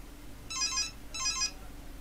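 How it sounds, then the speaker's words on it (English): A mobile phone ringtone rings in two short, bright bursts close by, with a steady low hum from co-op video gameplay underneath. "That's my phone."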